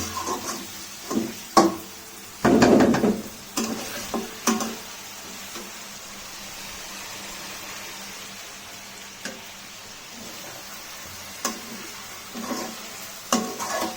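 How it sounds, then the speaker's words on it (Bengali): Chicken pieces frying in a pan, with broiler chicken cooking in oil; a steady low sizzle runs throughout, broken by several sharp clatters and scraping stirs of a utensil against the pan, one louder burst early on. "আপনারা 7-8 মিনিট ভেজে নেবেন। 7-8 মিনিট ভেজে নিলেই মোটামুটি হয়ে যাবে।"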